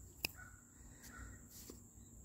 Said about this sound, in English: You hear the crow talking?